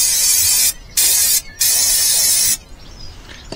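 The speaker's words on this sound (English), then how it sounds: "One more spray." A compressed air can blasts loud, close hissing sprays to clean crud from a part, in three bursts, two long and one short, with brief gaps, then fades to a faint hiss.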